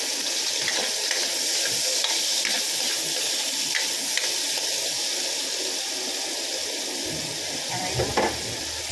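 Onion sautéing in a pan while cooking yellow fin and miswa, a steady sizzling hiss with occasional stirring scrapes, fairly close and continuous.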